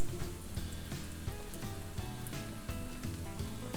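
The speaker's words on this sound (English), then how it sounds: "We'll just fry those on both sides until they're nice golden brown" Chicken pieces frying two at a time in hot oil for chicken parmesan, a steady dense sizzle with crackling pops throughout, close and fairly quiet, no talk.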